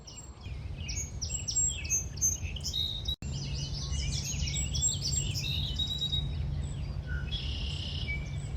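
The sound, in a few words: birds singing in a marsh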